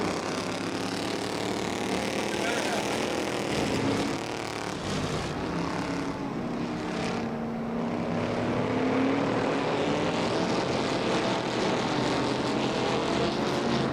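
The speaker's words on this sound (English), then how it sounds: "The Crown Vics are racing 20 laps." Ford Crown Victoria race cars taking the green flag at Irwindale Speedway's third-mile oval, a loud, continuous roar of several engines blending together as the pack accelerates, with no voices audible.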